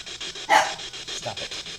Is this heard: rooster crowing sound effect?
no